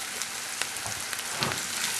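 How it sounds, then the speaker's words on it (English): Paneer sautéing in a pan sizzles and fries in a steady, dense crackle with faint stirring taps, close and continuous with no talking. "I'm going to saute this."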